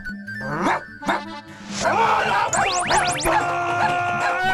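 A cartoon dog barks in a few sharp bursts, followed by rising whistle-like zips and comic sound effects, close and loud.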